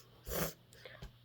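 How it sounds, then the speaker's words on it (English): Someone with a cold gives one short, close, wet nasal sniff, then a couple of fainter breaths and snuffles. "I'm going to be sniffing and maybe coughing a lot throughout this video because I currently have a cold"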